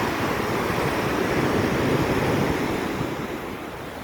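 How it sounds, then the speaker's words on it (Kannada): Sea waves crashing on the shore seen from close by, a continuous loud roar and wash of surf with wind buffeting the microphone, easing slightly toward the end, no speech. "ಸುಂದರವಾಗಿ ತುಂಬ ಅಲೆಗಳು ದಡಕ್ಕೆ ಅಪ್ಪಳಿಸ್ತಿದೆ."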